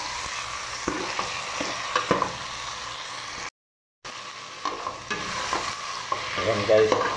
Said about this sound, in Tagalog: Ayan, sabay natin binigisa para maalis ang lansa.